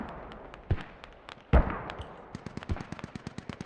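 Mortar salvos strike a building in the tactical shooter Squad: two sharp, heavy impacts land close, followed by a scatter of faint, distant cracks and pops, with no talking.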